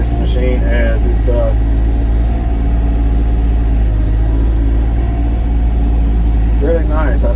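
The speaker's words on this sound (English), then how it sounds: "I really like that auto idle feature that this machine has." A Sany excavator engine runs on auto idle as a steady, loud low rumble that fills the whole stretch, with someone talking over it at the start and near the end.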